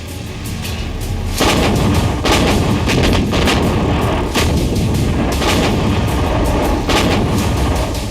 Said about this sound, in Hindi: भारतीय सेना की शान बोफोर्स से ज्यादा ताकतवर तोप।